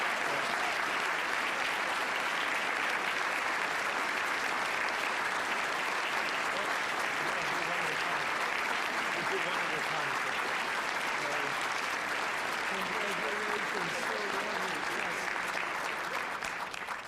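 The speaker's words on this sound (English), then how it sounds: "let's give them a grand round of applause" Sustained audience applause at an award ceremony for academy members and fellows: dense, steady clapping from a large crowd filling the room, holding constant loudness for most of its length and easing slightly at the end, with faint voices underneath.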